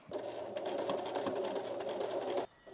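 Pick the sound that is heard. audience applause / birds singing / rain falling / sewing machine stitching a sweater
sewing machine stitching a sweater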